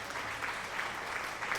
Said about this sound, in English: Oh, you're getting an applause for that whole speech.